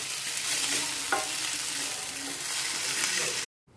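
Mint leaves stir-fried in a small spoonful of oil in a pan hiss and sizzle steadily, with scraping stirs and a brief clink, until the sound cuts off abruptly near the end.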